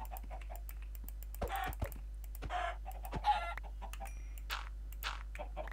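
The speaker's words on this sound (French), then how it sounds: "ils vont me rendre fou ces poulets" Chickens cluck in a multiplayer video game near the spawn area: short, scattered clucks and squawks repeat over several seconds at moderate level, with keyboard typing clicking in the background.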